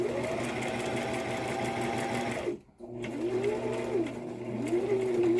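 A sewing machine stitches a face mask in a steady, close, motorized whir, broken by a brief stop before resuming for back stitching with slight changes in speed.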